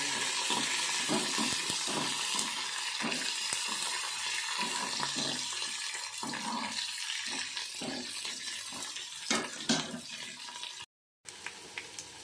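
Chopped green chillies and onions sizzle loudly and steadily in a hot pan of tempering oil, with a few scraping clatters near the end and no voices.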